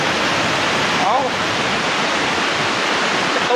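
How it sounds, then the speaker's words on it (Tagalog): Floodwater rushes down a river in a steady, close, broadband roar that continues throughout without pause, with faint brief chirps over it. "Baha na mga kaidol."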